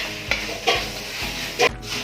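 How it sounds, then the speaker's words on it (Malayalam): Mustard seeds splutter in hot oil while a duck pepper roast is being cooked. A soft, steady sizzle is broken by a few sharp scraping stirs of a spoon in the pan. "പിന്നെ വേണമെങ്കിൽ കടുക് പൊട്ടിക്കുക"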